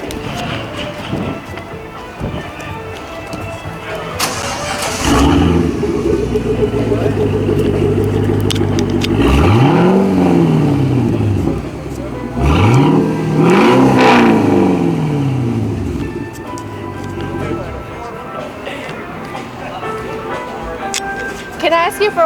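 A supercharged 2012 Cadillac CTS with over 500 hp idles with a rough burble, then its engine is revved hard twice in a row, rising and falling loudly from close range near the exhaust, while voices talk nearby.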